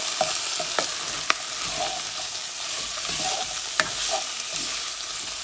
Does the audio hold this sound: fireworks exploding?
no